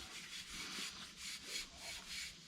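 A rag rubs rust and calcium off a Dodge 12-valve Cummins intercooler pipe, making rhythmic back-and-forth wiping strokes, close and soft, with no speech.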